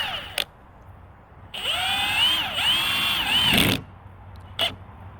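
Milwaukee M18 FUEL mid-torque impact wrench on its lowest mode, slipping: a steady whirring drive of about two seconds with wavering pitch, framed by short clicks and a brief burst afterward, no talk.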